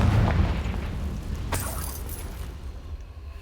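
A Confringo fire spell explodes in Hogwarts Legacy, a heavy booming blast with a deep rumble, then a sharp crackling burst of debris that fades into a dull tail.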